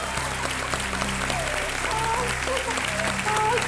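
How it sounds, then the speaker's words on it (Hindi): A studio audience at Kaun Banega Crorepati claps in a dense, sustained burst of applause, even and loud throughout with a faint musical tone underneath. "आप ताली बजाइए तो इनको पता चलेगा।"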